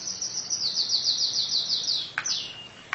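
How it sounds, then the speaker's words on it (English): A pet bird chirps indoors in a rapid, high-pitched run of tweets, then gives a couple of sharp separate calls, close and fairly loud with no talking over it. "Forgive my bird, he's really happy today."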